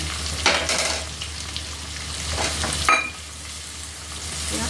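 Two onions fry in oil with garlic and ginger, a steady close sizzle punctuated by a few sharp spatula scrapes and knocks, no voices.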